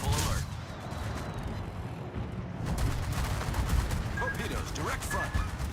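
Anti-aircraft guns on a warship in World of Warships fire as a continuous rattling barrage under steady rumbling battle noise, with a few distant whistles and tones mixed in.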